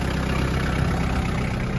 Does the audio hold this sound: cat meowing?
no